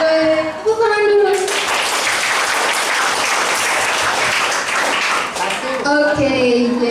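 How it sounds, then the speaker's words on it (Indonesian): A crowd of children claps together at a school talk session, producing a burst of dense, steady applause lasting several seconds between spoken words. "Tepuk tangan dulu."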